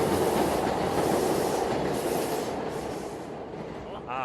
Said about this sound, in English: here's that train ambience that we were anticipating.